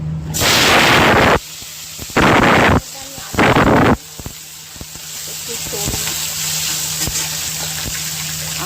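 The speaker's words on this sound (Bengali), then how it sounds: "সবজিগুলো আমি একটু হালকা করে ভেজে নিচ্ছি" Vegetables are lightly fried in a pan for a rice and moong dal dish, with loud hissing sizzle bursts up close and a quieter crackle in between.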